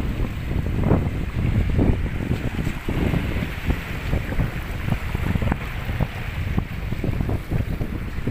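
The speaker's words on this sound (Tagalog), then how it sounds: "Medyo habagatan po ngayon, kaya sobrang lakas po ng alon dito." Strong sea waves roll in at a seaside village in Batangas during the southwest monsoon, a continuous rough wash with repeated surges under steady wind buffeting the microphone, fairly loud and close, with no talk.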